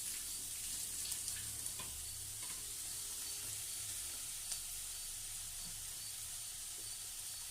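Steady sizzling and hissing of snake gourd frying in a hot pan, with occasional soft clicks of stirring, close and continuous with no talking.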